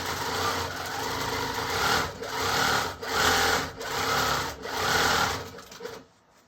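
A Handi Quilter longarm quilting machine stitches in short rhythmic bursts, tacking down thread with a steady mechanical whir that rises and pauses about five times, close and moderately loud, with no talking.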